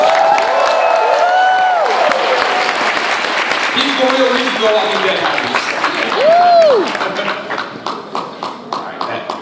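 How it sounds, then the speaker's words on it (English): A crowd at a New York Comic Con 2014 panel claps and cheers with broad, steady noise while someone talks over it, the clapping thinning into scattered claps near the end. "Give him a round of applause."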